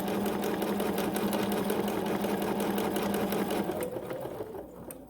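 A BERNINA 46 C sewing machine stitching corded pintucks at a fast, even pace, the needle's rapid close rhythmic whir holding steady, then easing off toward the end.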